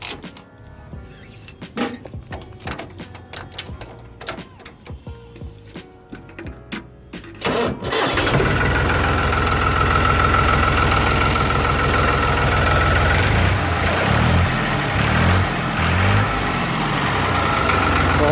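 A 1999 Ford 3630 tractor, all original, starts with a burst of cranking at about seven seconds and then settles into a loud, steady diesel idle, with scattered clicks and knocks beforehand.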